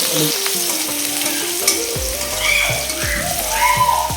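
Garlic sizzles and crackles steadily in hot oil in a pan while being stirred, with scraping spatula strokes, cooking for a Bengali fish curry with helencha greens.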